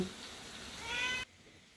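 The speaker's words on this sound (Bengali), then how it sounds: "আমার গুলো এসে ম্যা ম্যাও করছে খাওয়ার জন্য" Hungry cats meow for food near a kitchen where khichuri is cooking, a short run of close calls over background noise, ending abruptly.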